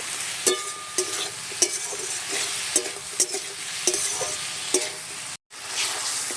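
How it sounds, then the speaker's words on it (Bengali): Brinjal and potato being stirred and fried in a pan, a steady oily sizzle broken by regular scraping knocks of the spatula every second or so, with a brief silence near the end. "এবার একটু নেড়ে চেড়ে বেগুন আলুটা কষে নেব"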